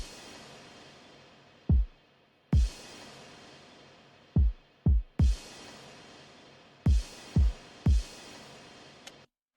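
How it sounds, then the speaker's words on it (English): An impact sound layered with a kick drum in a music production, booming thumps with deep, dropping low ends. The hits come singly and in quick pairs with short gaps, loud and close, without speech. "I added an impact for like almost every kick"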